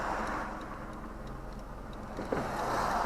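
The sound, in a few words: 2001 Mercedes 230 SLK car driving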